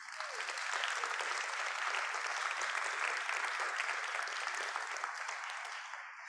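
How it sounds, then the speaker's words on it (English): Sustained applause from a gala audience honoring donors at a Justice for All benefit, a dense, even wash of clapping lasting several seconds and tapering slightly at the end, heard from a moderate distance. "give a round of applause for those donors"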